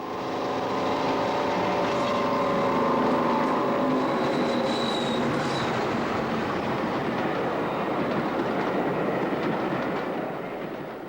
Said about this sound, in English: Deltic 55001 St Paddy, alias 55015 Tullier, leads Class 50 Sir Edward Elgar on the same day.